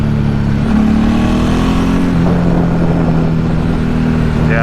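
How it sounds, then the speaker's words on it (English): Motorcycle pulling a wheelie in second gear, a loud, close engine drone rising in pitch as it accelerates hard, holding steady throughout with no talking over it. "Second gear wheelie."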